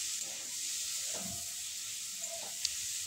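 Fried pointed gourd pieces sauté in a pan with sesame for a vegetarian dish, hissing and sizzling steadily, with a few soft stirring scrapes close by and one small sharp tick.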